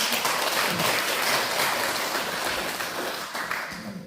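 A church congregation applauds the praise team during a Sunday worship service, a steady wash of clapping filling the room for about four seconds with no voices over it.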